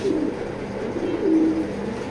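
Soft, low racing pigeon cooing repeats a couple of times, close by, over a steady background hum.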